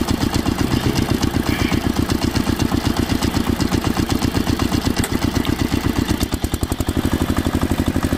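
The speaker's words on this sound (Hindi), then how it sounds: "एक ट्रैक्टर और आ गया।" A toy tractor engine runs steadily and close by, giving a fast, even putter of repeated pulses that holds through the whole stretch with a slight change near the end.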